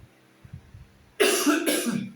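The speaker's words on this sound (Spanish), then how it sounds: "Un poco de tos por la gripe." A man with the flu coughs twice in quick succession, two harsh, loud bursts close to the microphone after a quiet moment with faint breathing and small sounds.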